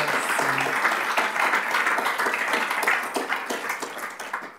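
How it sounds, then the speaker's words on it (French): An audience at an academic opening ceremony applauds with dense, steady clapping that fills the room and gradually thins into scattered claps as it dies away. "On peut les applaudir même en leur absence."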